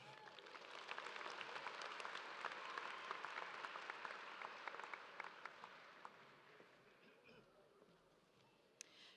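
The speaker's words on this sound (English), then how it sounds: "Please welcome all our guests today with a round of applause." A large crowd applauds at a high school graduation ceremony, broad sustained clapping from a distance that gradually fades away, with faint voices underneath.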